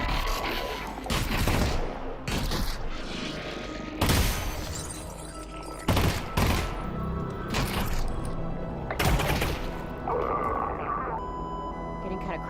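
Heavy shotgun blasts from a PC video game trailer, several loud booming bursts spaced a few seconds apart over a busy game soundtrack, with people talking over it.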